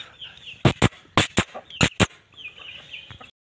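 Aseel chickens cluck in a quick burst of loud, close calls, several sharp clucks in pairs over about two seconds, with softer background clucking and chirps continuing alone.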